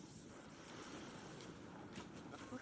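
Ocean waves surge and wash in a soft, continuous roar with a breezy, windy texture, faint and distant throughout.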